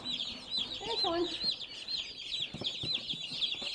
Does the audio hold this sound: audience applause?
no